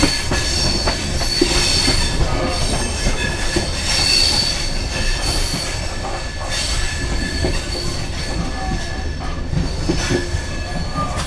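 An Indian express passenger train on the Purna–Pune route pulls into a station, with continuous loud rumbling, clattering wheels and metallic squeals heard from inside a crowded carriage. No voices stand out.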